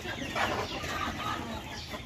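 Several Sonali hens cluck and murmur close by in cages on a poultry farm in Assam, a brief, busy burst of overlapping chatter.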